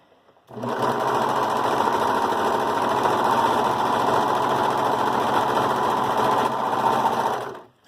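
A Brother 1634D serger stitches a dog sweater, a loud continuous buzzing whir that starts abruptly, runs steadily for about seven seconds and then stops, with no voice.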